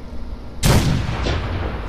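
A cannon blast from a 20 gun salute item in Fallout 76, fired inside the Batcave: one loud, sudden boom followed by a second, softer report and a lingering rumble.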